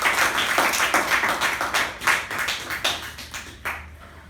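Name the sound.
applause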